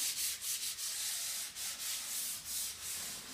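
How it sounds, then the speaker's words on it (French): Steady rasping strokes of fine 320-grit sandpaper rubbing over a painted wooden chair, repeated back and forth in a soft, even rhythm with no voices. "prendre un papier sablé 320 à grain fin et de faire un petit sablage"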